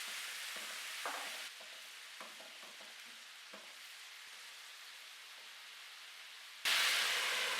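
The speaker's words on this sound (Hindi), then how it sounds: "अब पैन में ये चिकन डालेंगे।" Marinated chicken tikka pieces frying in a pan, a soft sizzle broken by light taps and clatters, then a sudden loud burst of sizzling near the end.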